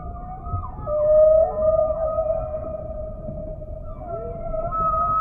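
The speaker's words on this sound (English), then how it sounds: "The whales in different oceans have different songs." Whale song from the South Pacific drifts through the water as long, sustained tonal moans and rising and falling whoops, clear and alone against a faint underwater background.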